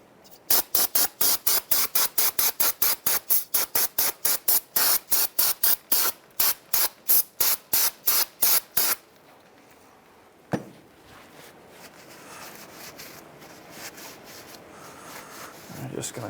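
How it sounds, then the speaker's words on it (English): Brake cleaner sprayed onto front brake parts of a 2007-2013 Mitsubishi Outlander in a series of about two dozen short, sharp hissing bursts, then a clatter and quieter handling noises. "We're going to use some brake cleaner."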